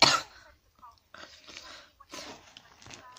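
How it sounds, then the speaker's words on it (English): A single loud, harsh cough bursts out at the start from someone with a sore throat, followed by quieter talking and small throat noises. "I just don't know why I'm coughing so much."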